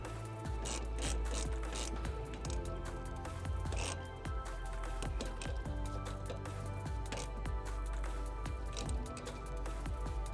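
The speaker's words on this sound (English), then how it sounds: "use this 12mm bolt that you initially took off and thread this back in to secure the bracket." 12mm bolt being threaded and ratcheted back in to secure a brake line bracket on a 2022 Toyota GR86, with continuous close metallic ratcheting clicks in a garage.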